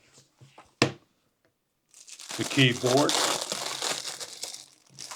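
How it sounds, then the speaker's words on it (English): Protective plastic covering is peeled and crinkled off an iPad keyboard case, a sustained crackling and tearing rustle lasting a few seconds close by, after a brief spoken phrase and a sharp handling knock. "please remove all the protective covering out"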